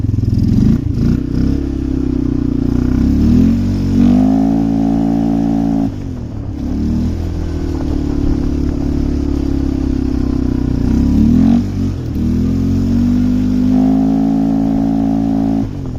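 A vehicle engine revs and surges loudly through deep snow 6 to 8 inches deep, throttle rising and falling in long swells with a tonal whine, continuous and close with no talking.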